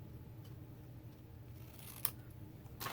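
Scissors cutting cardstock while making a greeting card, a few faint, quick snips over quiet room noise, with one sharper cut near the end.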